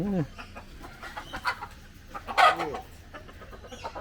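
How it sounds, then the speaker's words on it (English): Several bursts of rooster clucking from a black rooster in Kingston, Jamaica, some fairly close and loud, scattered over several seconds with quieter rustling between them. "Catch the rooster in action."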